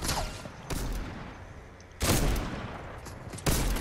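Revolver shots ring out in the video game Fortnite, a few sharp loud cracks spaced a second or more apart over a low background rumble.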